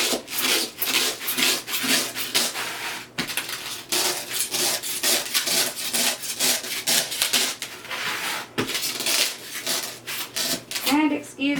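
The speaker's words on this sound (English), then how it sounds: "I'm just going to take my knife and I'm just going to cut around where I just drew." A knife sawing around a pineapple in steady back-and-forth rasping strokes, loud and close, with a short break partway through.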